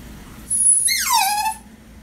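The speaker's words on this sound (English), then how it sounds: "Yeah, the dog is getting a bath." A dog whimpers once while being bathed, a single rising-then-falling whine that trails off over about a second, close and fairly loud over faint background.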